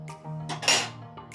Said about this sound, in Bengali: নুনটাকে একটু নাড়াচাড়া দিয়ে দেবো।